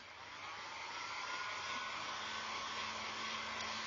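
A hair dryer blowing over a painted thrifted urn, a constant close whir that runs without a break and holds a steady level, with no one speaking.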